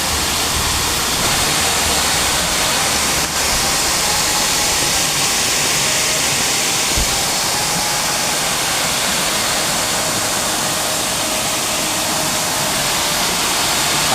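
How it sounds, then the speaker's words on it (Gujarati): Water rushes steadily down from a dam on the Girnar side near Junagadh, a loud, continuous broadband roar heard up close and alone for the whole stretch. "તો આ બાજુથી પાણી આવે છે ગિરનાર બાજુથી ને આ ડેમમાંથી અહીંયા નીચે જાય છે પાણી"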